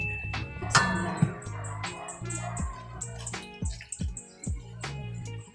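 Rainwater is poured over a dwarf sansevieria leaf cutting set out to root, giving quiet intermittent splashes and drips in uneven bursts.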